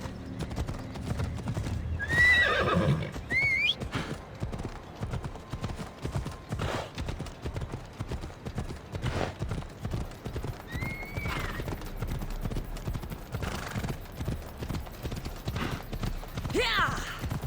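Horse hooves clip-clop steadily in Assassin's Creed Odyssey, with a sharp whinny near the start and a few more neighs scattered through, alongside faint voices at moments.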